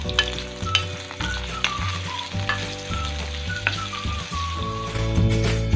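Chopped onion and garlic fry in hot coconut oil for a ridge gourd and shrimp stir fry, a loud, close crackling sizzle broken by repeated scraping stirs and clinks of a utensil against the pan.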